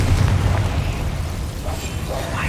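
Confringo explosive spell in the Hogwarts Legacy video game: a deep, rumbling blast that starts loud and decays into a sustained low roar with scattered crackles.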